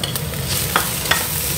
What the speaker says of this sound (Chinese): 我们加入适量的豆芽，还有韭菜，然后下锅翻炒哦